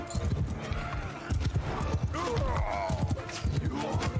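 Horse hooves clattering at a gallop with a neigh in the middle, from a Mount & Blade II: Bannerlord battle, set against steady game din and clashing noise.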